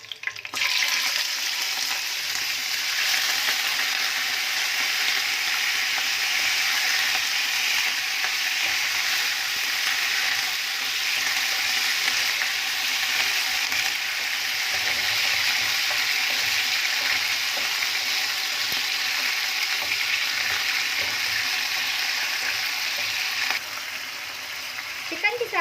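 Chicken sizzling in hot ghee with browned garlic, a continuous close hiss of frying that holds steady for about twenty-five seconds and eases slightly near the end, with no talking over it.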